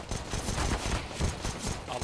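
Rapid gunfire in a first-person shooter, including P250 pistol shots, cracking in quick irregular bursts through a noisy, crowded firefight.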